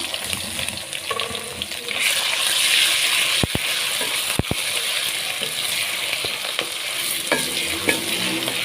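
Chopped onions sizzle and fry in a pan as they brown for an aloo gosht curry, with steady stirring scrapes and a few sharp clacks of a utensil against the pan, close and continuous with no talking.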